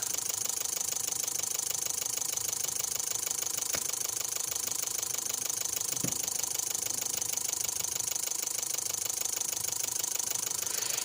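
A 2014 Daihatsu Terios engine with a fault code P0335 idles steadily and loudly up close, a constant mechanical drone with a light rattle; the start and the stall are not distinct.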